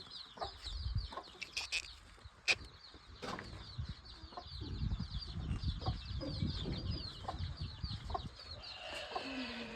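Hens cluck in soft, repeated bursts close by, with occasional rustling and flapping underneath and no voices.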